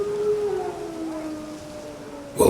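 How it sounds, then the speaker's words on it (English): Wild dogs howling in The Witcher 3 video game, a long, drawn-out howl that slides slowly downward, mid-distance and fairly faint, ending in a sudden burst of noise. "Wild dogs."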